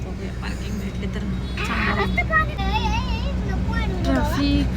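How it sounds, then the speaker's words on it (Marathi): Street traffic near Dagdusheth Ganpati temple in Pune, a steady low rumble of vehicles with engine hum filling the background, while a person talks over it throughout. "ट्रॅफिक."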